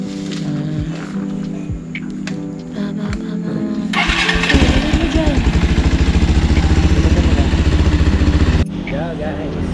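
A motorcycle engine starts and runs loudly with a fast, throbbing idle, then cuts off abruptly; a voice is audible at the start.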